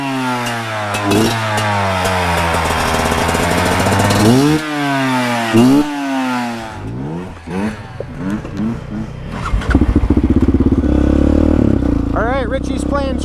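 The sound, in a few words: Beta dirt bikes riding on a trail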